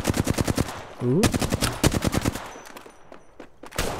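Rapid light machine gun fire in the video game Apex Legends, a steady stream of sharp, loud shots in quick rhythm broken by a short pause, with a brief voice exclamation over the firing.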